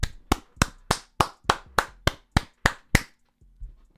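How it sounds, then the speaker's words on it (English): A single person claps about ten times in a steady, evenly spaced rhythm, each clap sharp, loud and close, with a softer thud just after the run stops. "I had to stand up and give you a round of applause."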